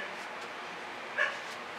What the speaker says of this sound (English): The dog has discovered something interesting and he is barking about it.